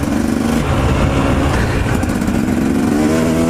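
A motorcycle engine runs loud and close, holding a steady rumbling idle with a brief rise in pitch partway through.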